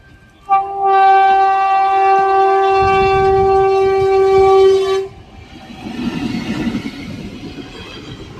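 A train sounds a long, loud, steady horn blast while passing a railway crossing in the rain, followed by the rumble and clatter of the moving train with rain noise in the background.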